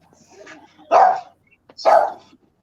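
A dog barks twice, loud and close, with a short grumbling whine before the first bark and a pause of about a second between the two.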